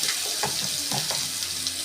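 Onion, ginger, garlic and green chilli paste hits hot oil over tempered spices, a close steady sizzle with a few scraping stirs, no voices.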